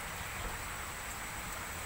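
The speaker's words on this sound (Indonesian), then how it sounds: "Hujan abu." Volcanic ash from the Semeru eruption falls like rain in a steady, even hiss, a continuous patter with no distinct events and no speech.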